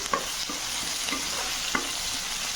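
Onion, panch phoron and chili fry in hot oil in a pan, a dense continuous sizzle with a few faint stirring taps, close and steady, with no voices.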